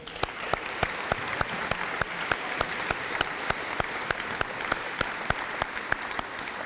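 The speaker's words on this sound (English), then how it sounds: "Please join me in a round of applause for them." Steady applause from a crowd at a junior high school graduation, dense continuous clapping with sharper individual claps standing out at a regular pace, no voices.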